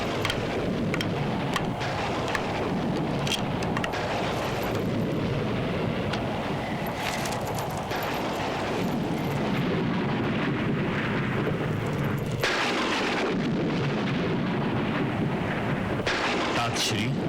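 A thunderstorm on a fearsome stormy night: steady heavy rain with deep rolling thunder rumbling throughout, loud and continuous, no voices over it.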